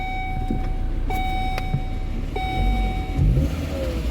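A 2012 Volvo S60 with a cylinder misfire fault, fitted with its original factory ignition coil, idles with a low, steady engine rumble that swells briefly as it revs, while thin electronic beeps chime on and off above it.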